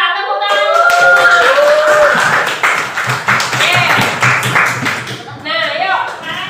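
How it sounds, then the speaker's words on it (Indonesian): A classroom of students clapping hands together in a lively burst, with voices calling out over the claps before it tapers off. "Tepuk tangan semua"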